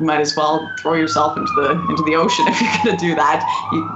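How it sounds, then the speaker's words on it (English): An emergency siren wails outside in a long gliding sweep that is steady and clearly audible behind someone talking close to the microphone indoors. "Sorry about the sirens out there."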